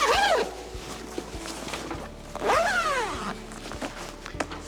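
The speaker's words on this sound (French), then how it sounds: "vous pouvez fermer la housse protection avec la fermeture éclair" A zipper drawn along a parasol's protective cover, two long sweeping zips with rising and falling pitch separated by a pause, close and clear, with light handling clicks and rustles.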